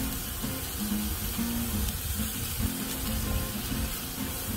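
Burger patties frying on a Blackstone griddle give off a continuous, even sizzle at close range, with no break or change in level throughout.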